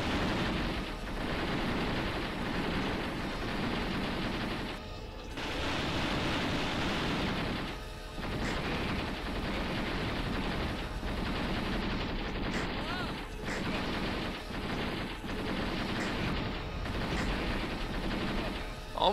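Gunfire in the combat game Steel Armor: Blaze of War, with dense, continuous bursts of shots and rumbling noise through most of the stretch, broken by brief lulls, while someone talks now and then.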